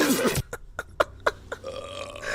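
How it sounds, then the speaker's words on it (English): A person lets out a loud, drawn-out belch at the start, followed by a few short clicks and faint rustles in a quiet room. "Nice burp, bro."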